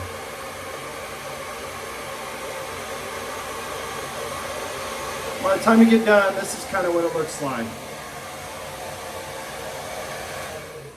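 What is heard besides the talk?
blow dryer on beard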